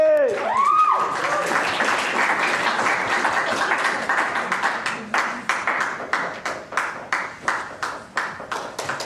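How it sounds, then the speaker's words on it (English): An audience at a poetry slam applauds a poet. A loud voice is heard at the start, then full applause fades into sparse, individual claps that continue to the end. "applause for Casey!"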